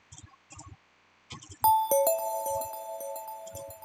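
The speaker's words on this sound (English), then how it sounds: "It is the Tinkle Bell preset from Flex from the General MIDI library." A Tinkle Bell synth preset from the General MIDI library in FL Studio's Flex plays a short melody of bright, ringing bell notes that slide into each other, following a few soft, muted plucked notes.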